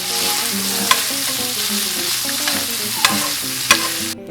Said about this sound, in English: you have the added step of kind of frying it off